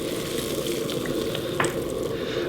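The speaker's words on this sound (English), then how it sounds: "now I just want to bring it to a little simmer" San Marzano tomato marinara sauce simmers in a pan with a steady, close bubbling and hissing and faint pops, and no voices are heard.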